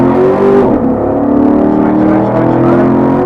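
Loud, steady engine roar from a Chevrolet Corvette C7 accelerating on a race track, heard from inside the car, with a brief dip in pitch around a gear change before the revs climb again.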